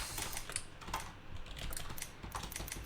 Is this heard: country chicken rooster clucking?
no